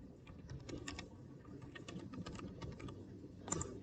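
Rapid, irregular key clicks from a computer keyboard during transaction data entry, steady and close, with a brief harder burst of keystrokes near the end and no talking.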